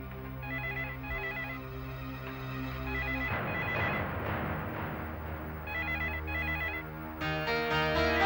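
A phone ringtone plays on in a looping electronic melody, bright and continuous, with a brief fuller burst midway and no talking.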